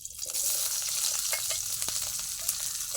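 Green chillies hit hot oil and fry with a loud, steady sizzle and crackle lasting throughout, with a few sharper pops and stirring clinks, no voices.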